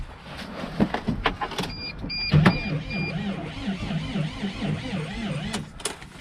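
Mercedes Sprinter van starter cranking an engine that won't start, after a new starter was fitted: a rhythmic, whirring turnover repeating steadily, fairly faint and with no voices.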